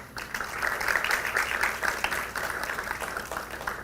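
A lecture-hall audience at a law faculty event in Piura gives a short round of applause, dense clapping that holds steady and then thins, fairly faint and distant.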